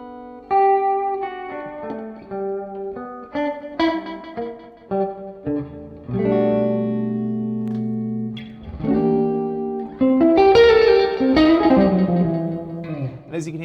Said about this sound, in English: And as you can hear, it's just a stereo echo.